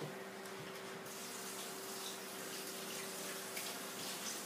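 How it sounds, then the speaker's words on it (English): Hands rinsed under a running kitchen tap, a steady close hiss and splash of water continuing without pause. "Now, let me rinse my hands off."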